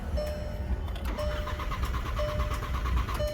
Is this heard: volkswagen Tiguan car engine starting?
yes